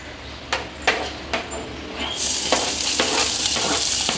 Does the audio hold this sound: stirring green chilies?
yes